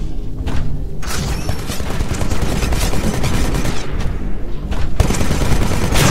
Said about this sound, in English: Titans can be equipped with the Vortex Shield. This weapon absorbs incoming ballistics for a limited time,